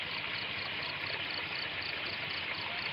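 Water streams steadily beside rocks like a small waterfall, a continuous close rushing wash with a faint high insect-like hiss above it, no voices.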